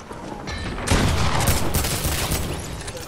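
Rapid bursts of gunfire from the video game Fortnite crackle close and loud, a sudden volley starting about a second in and continuing as a dense fusillade.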